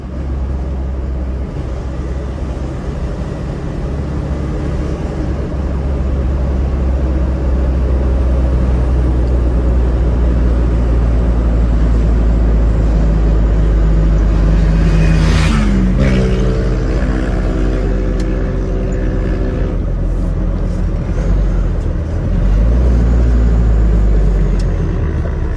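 A Chevrolet D20 Conquest pickup rolls down a rough, bumpy street, its diesel engine rumbling low and steady from inside the cab, with a brief rising whine midway and no talk.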